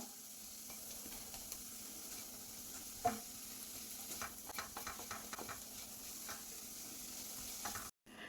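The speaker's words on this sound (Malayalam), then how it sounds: "ഫ്രൈ ചെയ്തെടുക്കാം" Onion and tomato masala for a Kerala-style crab curry frying steadily in a pan, a continuous soft sizzle with occasional stirring scrapes and clinks, close and moderately quiet, with no talking.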